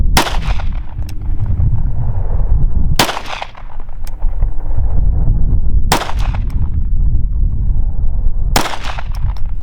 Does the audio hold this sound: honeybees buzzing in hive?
no